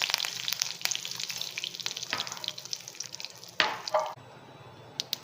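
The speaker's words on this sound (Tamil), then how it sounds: "கடுகு, உளுத்தம்பருப்பு தாளித்த உடனே கொஞ்சமாக கருவேப்பிலை சேர்த்துக்கிறேன்." Mustard seeds and urad dal crackle and sizzle in hot oil in a home kitchen, a steady close frying hiss with sharp pops, ending in a couple of louder stirring clatters.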